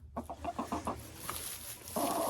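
Broiler chickens clucking in a short run of close, rhythmic clucks, followed by a louder sustained call near the end over a low hum of background noise.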